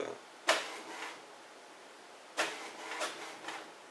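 A desktop printer works hard enough to make the desk shake: a sharp mechanical clack, then softer whirring passes, then another clack and a few rattling strokes, all moderately quiet and close.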